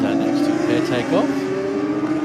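Drag racing motorcycles launch off the line at Sydney Dragway during a bike night, their engines droning and rising in pitch under an announcer's steady commentary.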